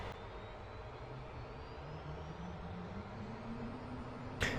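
The first engine of a Mi-8 helicopter starting in the DCS flight simulator: a steady turbine roar with a whine that climbs slowly as the engine spools up, continuous and moderately loud, with a brief click at the end.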